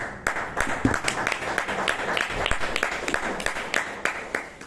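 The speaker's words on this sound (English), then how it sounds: "Can we give a round of applause?" A small room of club members at a Toastmasters meeting claps together, a moderately dense patter of individual claps with distinct sharp hits, steady throughout.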